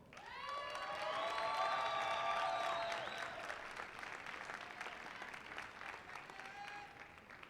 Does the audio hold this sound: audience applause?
yes